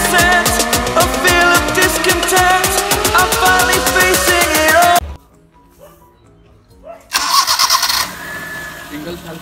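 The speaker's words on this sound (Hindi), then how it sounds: "इंजन स्टार्ट करते हैं." Maruti 800 car, 14 years old and fully modified, cranking and firing up its engine, then a brief lull before it settles into a loud idle; nearby voices talk under the engine.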